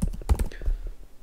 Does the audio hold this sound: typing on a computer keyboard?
yes